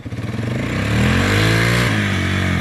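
A Honda Fourtrax ATV engine close by, first chugging at a low pulsing idle and then revving up into a loud, sustained drone that holds steady and dips slightly near the end.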